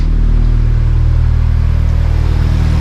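A car with a 271 W1 turbo, turbo inlet pipe and a street exhaust fitted with two mufflers idles loud and close, a steady deep rumble with a throbbing low pulse.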